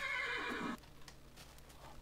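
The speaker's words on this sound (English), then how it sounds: "Oh, how do you tame a black horse?" A black horse in a video game lets out a loud, bright whinny that lasts under a second, then cuts off, leaving a quieter background with faint thuds and ambient game noise.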